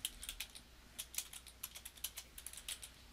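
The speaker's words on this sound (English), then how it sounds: "and I start typing" Typing on a computer keyboard into a Word document, close and quiet: irregular bursts of crisp key clicks with short pauses, alone without speech.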